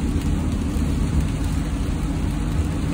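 Heavy rain pouring down in bad UK weather, a dense continuous hiss and roar of water, loud and steady with no pauses.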